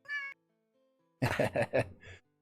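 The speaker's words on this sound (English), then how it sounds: "Ladies and gentlemen, Lily the cat." Lily the cat gives a short meow, then after a pause a louder run of three or four quick meows and a final shorter one, close and clear.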